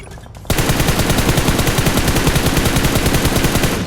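Gunfire in the mobile battle game PUBG Mobile: a loud, continuous rapid automatic burst kicks in after a brief quiet start and hammers on steadily, close and alone with no talking.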